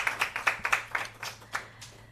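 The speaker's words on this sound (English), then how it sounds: "So can we give her a round of applause, please?" Applause at a youth career talk, thin and sparse: a few hands clapping in quick, uneven bursts for about two seconds, close and fairly quiet.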